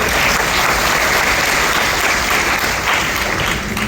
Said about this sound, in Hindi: एक बार उनकी ताली बजा दीजिए